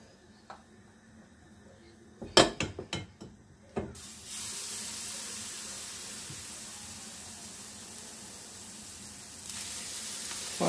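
Vegetable pies fry in oil in a pan: a few clattering knocks come first, then a steady, even sizzle hisses on without break to the end.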